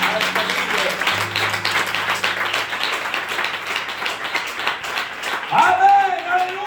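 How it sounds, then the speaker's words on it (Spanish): A church congregation at a testimony service applauds in a broad, steady wash of clapping, mixed with voices and a low sustained tone, swelling slightly toward the end. "Dale un aplauso a este líder."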